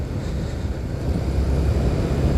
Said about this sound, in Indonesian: ini ditambah angin yang lumayan kenceng